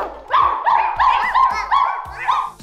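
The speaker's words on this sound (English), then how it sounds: "it's not a wolf, it's a dog" A dog barks in a quick run of about seven close, loud, yelping barks with a rising whine-like tone, evenly spaced and alone without talk.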